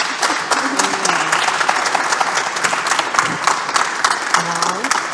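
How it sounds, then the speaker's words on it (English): Clapping from a courtroom audience at the DC Superior Court follows a judge's swearing-in, a loud, even wash of applause with scattered voices murmuring underneath. "Let's give her a clap."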